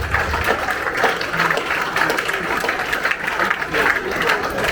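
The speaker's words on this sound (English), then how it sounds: "Round of applause" Audience applause at a forex summit presentation, a moderately loud, continuous patter of many hands with faint crowd murmur underneath.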